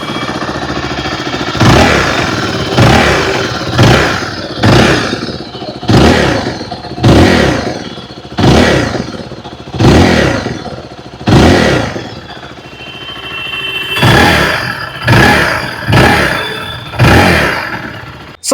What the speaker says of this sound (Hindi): आइए अब सुन लेते हैं इस बाइक की एग्जॉस्ट नोट।